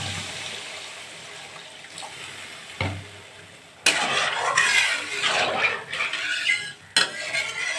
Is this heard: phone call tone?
no